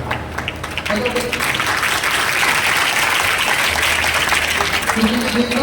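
An audience at a Shiv Katha religious discourse claps in a sustained, dense wash of applause that builds after a moment and carries on, with a voice faintly audible alongside.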